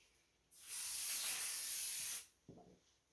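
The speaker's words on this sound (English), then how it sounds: "So I'll spray that." A close, steady hiss from a spray can lasts under two seconds and stops abruptly, followed by a brief soft knock.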